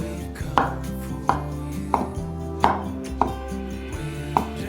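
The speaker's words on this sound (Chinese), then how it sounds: "香菇角切成大丁狀，上面的部分切片。" A knife chops shiitake mushrooms on a cutting board in a vegan kitchen, six sharp evenly spaced strikes roughly every 0.6 seconds, close and clear over a steady background tone.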